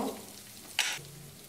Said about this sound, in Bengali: কষানো মানে হলো গিয়ে আমাদের আদা রসুনটা যেন ভাজা ভাজা হয়ে যায় পেঁয়াজের মতো